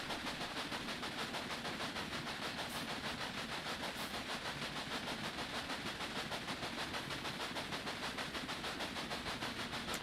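A train runs in the Railway Empire video game, giving a steady, loud rhythmic rumble and hiss with a repeating clickety-clack pulse that continues without a break.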